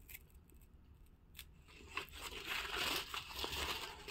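Paper and synthetic fiber filter media from a JD (Just Drive) JFM-0010 oil filter being torn apart by hand, a rough crackling rip that grows louder and denser toward the end, close up with no talk.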